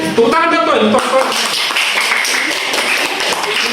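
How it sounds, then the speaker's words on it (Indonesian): Students in a university semantics lecture burst into hand clapping after a brief voice at the start, a dense, steady patter of many hands filling the rest of the room. "Tepuk tangan dong, Pak."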